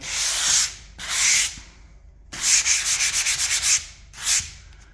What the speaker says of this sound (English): a couple of swipes with the sponge and that's gone